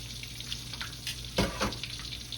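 Shrimp frying in hot oil in a home kitchen, a steady broadband sizzle with a louder burst of crackling midway as pieces are turned or added, no talking.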